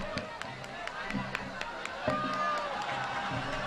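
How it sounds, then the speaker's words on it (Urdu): An audience at an Independence Day poetry recital applauding, scattered claps and bursts of clapping from a crowd mixed with talking and cheering voices. "زوردار تالیاں بجائیے تنویر صاحب کے لیے بھائی"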